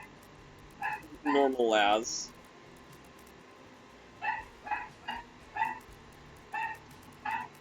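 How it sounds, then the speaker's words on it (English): Small dog whining and yipping indoors in the background, a rising whimpering cry followed by a series of short yelps spaced across the clip, with a person speaking briefly. "I'm sorry if you hear the dog, like, moaning in the background."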